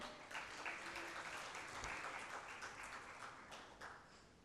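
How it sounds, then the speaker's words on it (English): Audience applause for panelists at an Audit Day 2024 event for chartered accountants: a steady, dense wash of many hands clapping that holds for several seconds, fairly faint and distant, then slowly tapers. "We request you to give a round of applause for them."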